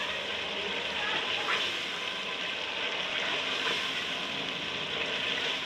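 Steady broadband rush of water poured into a cooking pot of frying chicken curry masala, continuous and fairly loud, with a faint sizzle underneath and no talking.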